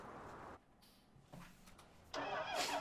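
A tractor engine starts up in the Farming Simulator video game: a brief quiet stretch, a short cranking burst, then the engine catches and settles into a louder, steady run, with no talking.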